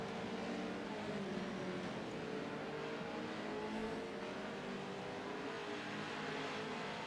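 Race cars brake into the chicane at Laguna Seca: a steady, continuous engine roar with shifting pitch as several cars run together, heard from a middle distance with no speech.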